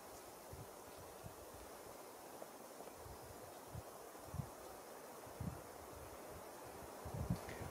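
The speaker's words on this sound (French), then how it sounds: "Alors là, on entend le vent dans les pins." A soft, continuous rush of wind through pine trees with faint rustling and a few light crackles, quiet and distant.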